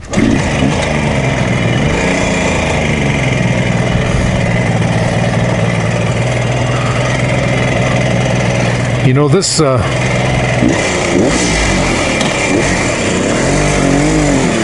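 A 1972 Kawasaki H2 motorcycle runs nearby with a loud, steady engine drone and a brief rise in pitch as the bike sets off.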